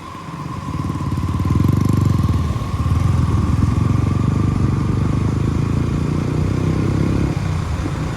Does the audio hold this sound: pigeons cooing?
no